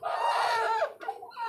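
Native hens on a rooftop chicken farm, one of them broody, cluck and call in a short, close, fairly loud burst, then give a softer follow-up cluck.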